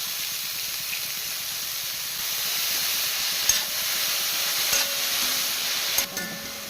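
Chopped pumpkin leaves with chilli and onion stirred in a hot pan for thoran, giving a steady, close sizzle and hiss with a few soft scrapes and clicks of the spoon.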